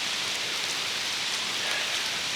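Steady rain patters on surfaces around a shed on a rural ranch, a soft, even hiss that holds constant and quiet with no other sounds.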